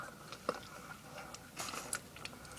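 Quiet close-up chewing and biting of Tear Jerkers sour candy, with sporadic wet crunches and squishy clicks over a low background hiss.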